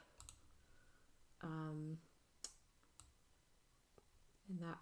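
Computer mouse clicks sound while selecting and scaling plant models in 3D modeling software: a few faint, sharp, isolated clicks with a short voiced sound between them in a quiet room.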